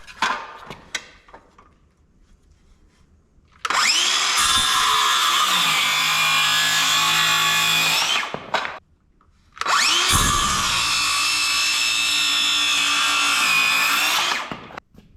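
A power saw cuts lumber for a DIY pasture pig shelter in two long, loud bursts of whining, droning cutting, each several seconds with a brief pause between, following a quiet stretch.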